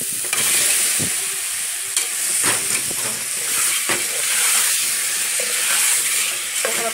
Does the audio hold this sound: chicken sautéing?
yes